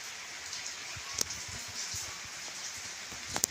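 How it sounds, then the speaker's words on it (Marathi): Steady rain falls during the summer, making a soft, even hiss with a couple of brief sharp drips near the end. No one talks. "ते बघा पाऊस चालू आहे"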